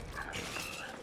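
A dog whimpers and yips in the Lies of P video game, a short, soft, strained whine rising and falling over about a second, fairly faint against game background noise.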